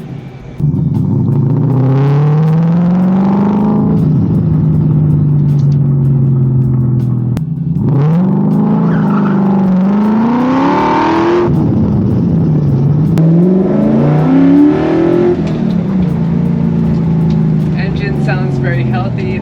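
A restored classic car engine revs and pulls through repeated accelerations, its pitch rising and dropping across several loud, close runs, with speech mixed in.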